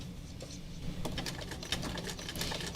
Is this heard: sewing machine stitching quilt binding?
yes